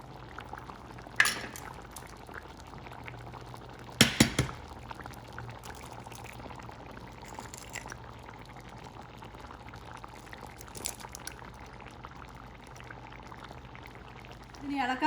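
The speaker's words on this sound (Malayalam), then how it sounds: "വളരെ സൂക്ഷിച്ച് ഉണ്ണി പൊട്ടാതെ പതുക്കി ഒഴിക്കണം." Eggs are slowly poured into a simmering Palakkad-style tamarind egg gravy. The pot bubbles softly, with a few faint clinks of utensils and occasional talk in the background.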